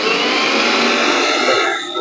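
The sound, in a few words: mixer grinder motor running after refitting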